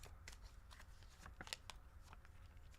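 Tarot cards shuffled close by in a quiet room, a short run of soft papery riffles and taps with one sharper snap in the middle, faint overall.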